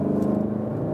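A BMW M850i coupé engine on a racetrack, a brief steady low-pitched drone with a rising hum, heard alone without speech.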